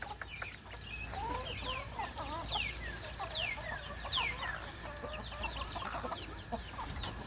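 Chickens cluck and murmur in a backyard coop with mother hens and chicks, a busy cluster of short calls and a few higher squawks over steady low outdoor noise.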